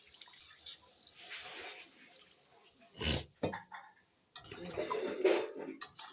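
Broth poured into a cooking pan of fried taro and spices, with a gurgling splash and bursts of hissing, a few metal clinks of a utensil, and a voice talking softly at moments.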